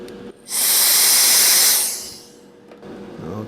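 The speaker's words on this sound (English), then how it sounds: "Probably try to blow it through with some spray." Aerosol spray can blowing flux cleaner off an RTX 4090 graphics card board: a loud, close hiss lasting about a second and a half that then fades, with faint spray sounds at the end.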